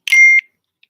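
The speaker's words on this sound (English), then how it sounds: "Text message." Phone text message notification: a single short, bright electronic beep, close and clear, followed by silence and a tiny faint blip.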